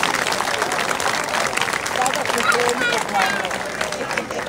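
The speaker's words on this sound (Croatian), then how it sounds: "Još jednim pljeskom nagradimo Kud Lipa Semenci." Audience applause for a folk dance ensemble at a regional costume and folk song-and-dance festival in Đakovo, a steady dense wash of clapping with crowd murmur throughout, fairly loud and continuous.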